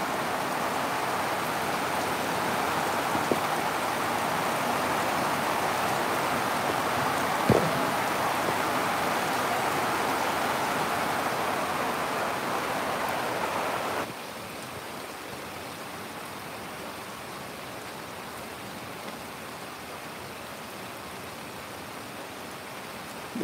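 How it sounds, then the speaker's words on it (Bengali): Steady rain pours down outdoors in a dense, even hiss, with water running off a wire; the downpour softens and quiets noticeably partway through, and a couple of brief knocks stand out early on. "অনেক সুন্দর বৃষ্টি।"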